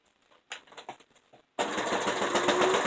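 A sewing machine back-stitching a pad bag with a plastic inner liner. A few soft clicks come first, then the motor whirs steadily and loudly at close range.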